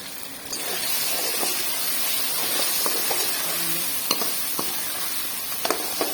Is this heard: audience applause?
no